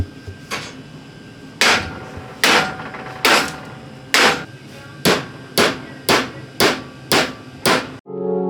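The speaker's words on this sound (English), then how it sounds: "Big hammer." A big hammer strikes metal during custom Valvetronic exhaust fabrication, about ten loud, sharp blows landing in a steady rhythm, each with a short ringing decay, and no talking.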